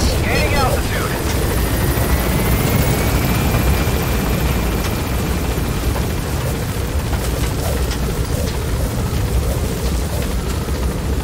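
Helicopter rotor and engine roar from a Metal Gear Solid V extraction chopper climbing away from Mother Base, a loud steady wash of noise throughout, with faint voice chatter mixed in.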